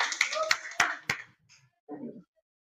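A classroom group claps hands in a few sharp, separate claps spaced through the first second, then voices follow quietly.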